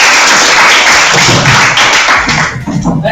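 Classroom applause for a student, a loud burst of many hands clapping close by, dense and continuous before tapering slightly at the end, with voices mixed in.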